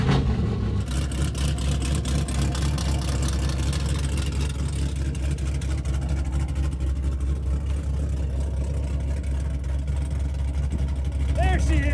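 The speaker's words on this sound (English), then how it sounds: "For as loud as this thing is in the rear of the car, for a big engine, a cammed engine like this, it sounds really quiet and healthy up here" A big-cammed Camaro SS V8 holding a steady idle, a continuous low rumble that sounds fairly close and even, with no revving.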